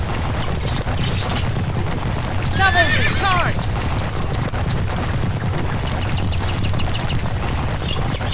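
Horses whinny sharply in the middle of a dense, continuous battle roar in the video game Kingdom Under Fire Heroes, with a faint clip-clop of hooves running under the constant din.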